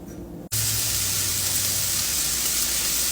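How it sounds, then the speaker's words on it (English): About half a pound of Jimmy Dean sausage hits a hot skillet with an abrupt, loud, steady sizzle. The dense frying hiss carries on unbroken after a brief quieter start. "now I'm cooking about a 1/2 pound of Jimmy Dean sausage"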